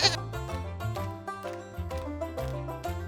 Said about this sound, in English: The goat goes.